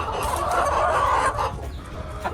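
A mother hen clucks steadily among her newly hatched chicks on a homestead, the soft repeated clucks close and continuous throughout, with no talking.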